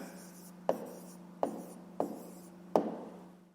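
Pen or pencil writing a math answer by hand, heard as soft steady scratching with four sharper taps spaced about a second apart, close and fairly quiet with no talking.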